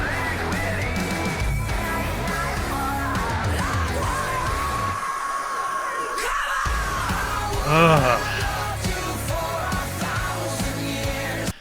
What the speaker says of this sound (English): That scream end, that little pause